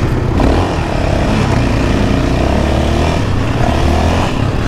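A quad bike engine drones loud and close, revving with a continuous rough buzz and slight swells in pitch as it pulls away along a track.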